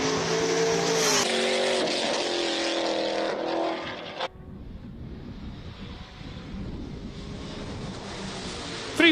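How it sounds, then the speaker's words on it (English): A Ford Mustang launches at a Cape Town hill climb, its engine roaring loud and close with a harmonic rise for about four seconds, then cutting to a rougher, more distant rumble and tyre noise. "Franco Di Matteo launches the Ford Mustang."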